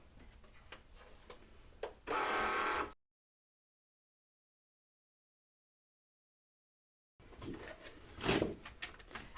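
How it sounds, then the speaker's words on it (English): A Cricut machine cuts heat transfer vinyl on the iron-on setting on a green standard grip mat, giving soft ticking and mechanical shuffling with a louder whir, a long silent gap, then more motor noise. "cut out our little name from our heat transfer vinyl"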